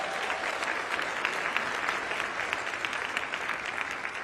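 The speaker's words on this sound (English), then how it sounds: "Give Ambassador Young a round of applause" An audience gives Ambassador Andrew Young a round of applause at a political event, a steady, fairly distant roar of many clapping hands, sustained and even, with no voices above it.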